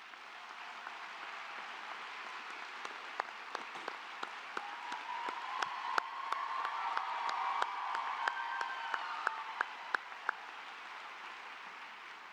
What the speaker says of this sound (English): Would all of the faculty who are in attendance today please stand and receive our well-deserved applause